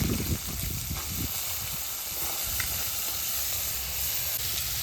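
Chickpeas fry in hot oil in a pan, giving a continuous close sizzle with a few low knocks of stirring at the start.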